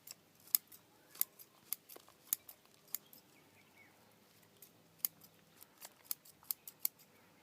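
Scissors snipping fig bonsai roots, a series of quiet, crisp, irregular cuts close by, with small pauses between clusters of snips.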